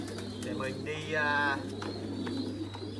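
American giant pigeons coo in low, throaty bursts close by at a breeding farm, mixed with a steady background hum while someone talks over them.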